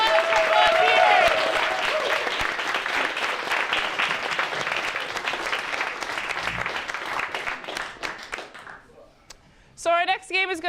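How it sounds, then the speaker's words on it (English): Audience applause at an improv comedy performance, a dense wash of clapping from a crowd that fills most of the stretch, then thins and fades out near the end as a voice begins speaking. "And a huge round of applause for both viewers."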